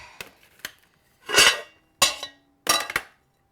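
A heavy pot is set down on a baking tray holding puff pastry, giving several sharp metallic clanks and scrapes in quick uneven succession, close and clear in a quiet kitchen.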